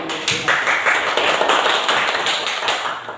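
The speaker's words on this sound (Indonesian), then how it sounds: "Kira saya tepuk tangan dulu." Group of teachers clapping hands together after a reflection at a school positive-culture dissemination session; dense, loud, continuous clapping for about three seconds, tapering slightly at the end, with no talk over it.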